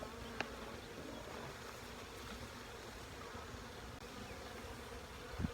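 Honeybees buzzing steadily around an open hive during an inspection, a dense continuous hum close by with no talk.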